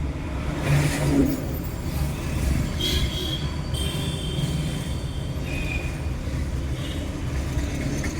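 Road traffic passing close by on a busy road, steady rumbling engines and tyre noise with occasional whining, squealing tones as vehicles move past, continuous without a break.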